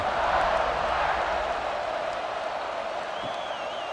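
Stadium crowd in a CFB 26 college football game, Notre Dame against Boise State, makes a steady, broad roar of cheering before kickoff, distant and sustained without distinct claps or individual voices.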